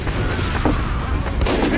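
A gunshot in the shooter video game Vault F4, a loud close blast inside dense, noisy game audio.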